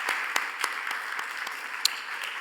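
A church congregation claps in thanks during a Sunday worship service, steady dense applause of many hands filling the room, no voices over it.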